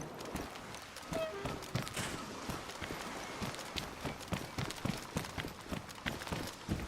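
Rhythmic hoofbeats of a horse galloping in the video game DayZ, steady clip-clop thuds running throughout at moderate volume, with faint background noise.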